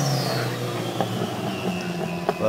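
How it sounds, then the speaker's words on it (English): A self-built car with an automated manual transmission pulls under engine load, its pitch rising and then dropping at gear changes, with a few clunks from the shifts, fairly close and steady throughout. "Here's a video to show you what the transmission shifted like."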